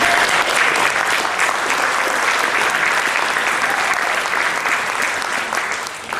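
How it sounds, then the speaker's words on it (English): Dense, sustained applause from a large audience at a civic address about Stockton, with steady clapping throughout that thins slightly at the end. "so get that applause ready to go again"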